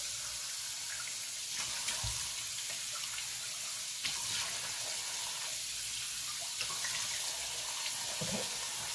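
Water from a tap flows steadily into a sink while a face is splashed, a continuous close hiss broken by a few brief splashes, without speech.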